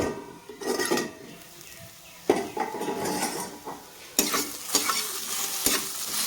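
Bitter gourd fries in a pan while a utensil stirs and scrapes it, producing irregular metallic clatters and scrapes over a continuous frying sizzle, fairly close.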